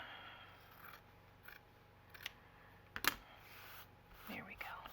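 Scissors snipping loose strings off the edge of an altered Little Mermaid Golden Book cover, a few faint, close crisp cuts spaced apart amid quiet handling rustle.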